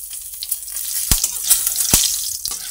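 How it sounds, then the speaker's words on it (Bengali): Whole spices with a bay leaf, cardamom, cinnamon, cloves and cumin seeds sizzling in hot oil, a close, steady crackle punctuated by a few sharp pops and spits. "সব একসঙ্গে ভেজে নিলাম।"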